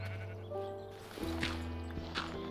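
A Minecraft sheep bleats in short repeated wavering calls, fairly near and moderately loud over a steady background hum from the game.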